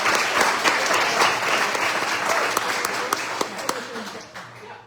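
An audience at a ceilidh applauds Iris McKenzie with a full, steady burst of clapping that swells and then tapers off toward the end, with a voice speaking over it.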